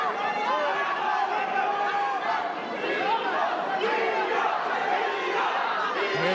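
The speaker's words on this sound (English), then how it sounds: "The Latino crowd behind him." A boxing crowd, with a Latino group calling themselves the Marching Skulls, keeps up a steady dense roar of voices and chanting, faint and distant, with no clear break.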